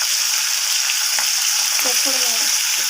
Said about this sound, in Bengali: এরপর মাছগুলোকে আমি একটু লালচে লালচে করে ভেজে নেব